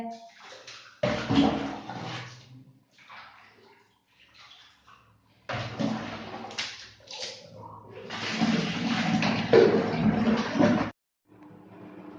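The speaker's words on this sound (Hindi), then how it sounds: "इसे मुझे वॉश करना पड़ेगा, क्योंकि मुझे ही सब वॉश करना पड़ेगा।" Water splashing and sloshing as a bucket is scrubbed and rinsed by hand, in uneven bursts of running and pouring with quiet pauses between, close by.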